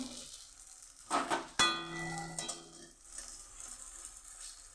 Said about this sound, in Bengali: এগুলোকে লাল লাল করে ভেজে তুলে নিই